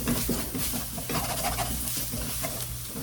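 Flour and butter roux stir-fried in a pan for crab cream croquettes, with a steady sizzle and the scrape and patter of stirring running throughout, close and moderately loud.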